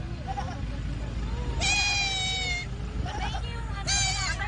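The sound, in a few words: small goat bleating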